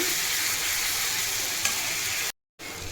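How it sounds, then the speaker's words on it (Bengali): Masala for a rohu fish curry fries in a pan with a steady, loud broadband sizzle throughout, briefly cutting out near the end before resuming. "লাল হওয়া পর্যন্ত ভেজে নেব"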